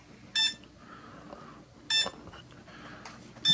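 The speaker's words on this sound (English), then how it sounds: "that annoying beeping is not going to stop" A Furibee F36 drone's alarm gives three sharp electronic beeps, evenly spaced about a second and a half apart, above a quiet background whir.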